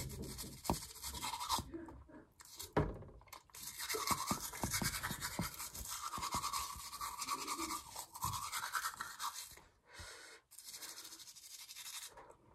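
Toothbrush scrubbing teeth with toothpaste during a long repeated brushing session, a close continuous bristly scratching with rhythmic strokes and brief pauses, no talking.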